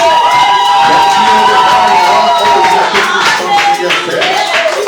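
A church congregation at a Sunday thanksgiving service cheers and claps loudly and continuously, a dense wash of voices and applause filling the room.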